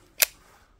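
A single sharp gunshot from a 1911 .45 pistol cracks loudly and close by, with a short echoing decay after the blast.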